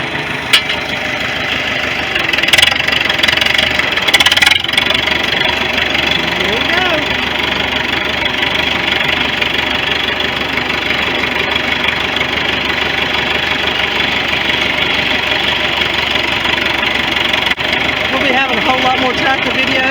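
A 1973 International loader tractor runs while planting sorghum. Its engine gives a steady, close, knocking idle throughout, with a couple of sharp clanks early on and faint voices in the background.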